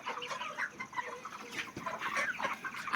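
Broiler chickens in a crowded poultry shed give soft, irregular clucks and murmurs, fairly faint and close, with rustling in between.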